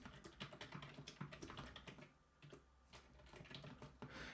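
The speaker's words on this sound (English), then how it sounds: "I'm just going to type it up actually" Quick, close clicking keystrokes on a computer keyboard come in continuous bursts with a short pause midway, and no voices are present.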